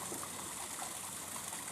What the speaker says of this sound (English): and a little river.